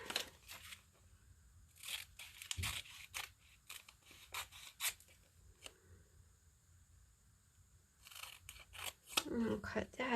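Scissors snip through magazine paper to cut out a single word, giving a series of short, close crisp cuts and paper rustles with brief pauses, ending in a flurry of crinkling paper.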